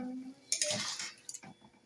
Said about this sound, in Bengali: এখন আমি ভালো করে ঘি আর গরম মশলাটা মিক্স করে নামিয়ে নিই।